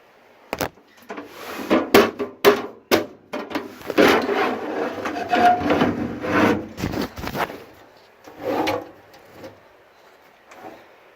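IBM PC XT 5160 computer case being opened by hand, with sharp knocks and clunks early, then scraping, sliding metal rubbing over several seconds before going quiet.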